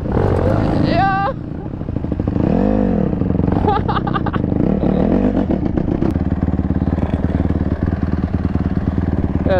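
A dirt bike engine revs repeatedly close by, its loud rasping bursts rising and falling between short pauses, with people talking and shouting over it.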